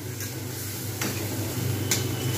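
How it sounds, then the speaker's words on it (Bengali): Chickpeas stirred with spices in a pan for a chickpea and potato curry give a low, steady sizzle, with a few sharper spatula scrapes against the pan and no talk. "আমি কিন্তু এইভাবে একটু ছোলাগুলোকে এর সঙ্গে ভালোভাবে নাড়িয়ে নেব, যাতে মশলা এবং ছোলাগুলো খুব সুন্দরভাবে একসঙ্গে মিক্স হয়ে যায়।"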